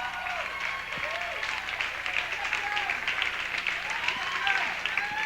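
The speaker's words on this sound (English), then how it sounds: "keep it going for Geoff Young" A comedy club crowd at the Ice House in Pasadena, California applauds a stand-up comedian after his set, dense sustained clapping with whoops and cheers rising over it.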